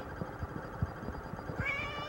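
A house cat meows indoors, a drawn-out call near the end rising over a busy domestic background with soft knocks and shuffling.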